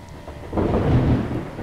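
Thunder in the zombie survival game Project Zomboid rolls in as a loud, deep rumble that swells after a brief quiet start and sustains under steady rain.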